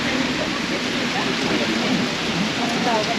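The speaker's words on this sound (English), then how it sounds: "Apparently the rain's stopping in about 50 minutes." Steady rain falling near Lake Annecy, a continuous close hiss of drops on surfaces with no pauses.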